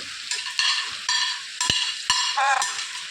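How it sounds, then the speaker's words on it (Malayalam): Curry paste for chicken curry sautés loudly in a hot pan, a bright continuous sizzle broken by a handful of sharp spatula strikes and scrapes against the metal. "ഈ പേസ്റ്റ് ഒക്കെ ഇട്ടു ഇത് നന്നായിട്ടൊന്ന് വഴറ്റിയെടുക്കുക"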